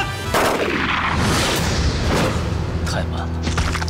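Gunfire erupts in a Chinese TV drama scene as police surround a suspect at a bridge, heavy booming shots crowding together loudly for several seconds with dense echoing blasts.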